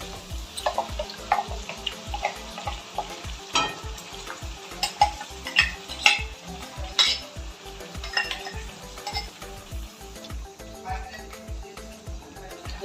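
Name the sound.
masala frying and being stirred with tomatoes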